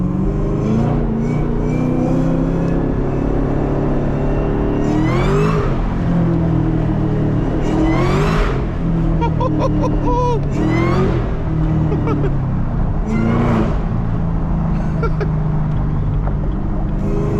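Supercharged Camaro ZL1 accelerating hard at night, its engine roar swelling through several rising pulls with a high supercharger whine, loud and close from inside the car.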